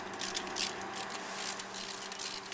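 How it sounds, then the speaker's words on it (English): A socket wrench snugs down intake manifold bolts on a truck, giving quick, quiet ratchet clicks in steady bursts, close by with no talk. "What I'm going to do first is get my regular socket wrench. I'm just going to snug them down."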